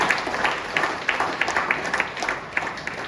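Audience applause for an author being honored at a Tamil-language event, heard as a steady wash of clapping across the room, with scattered louder claps standing out, moderately loud throughout and with no speech over it.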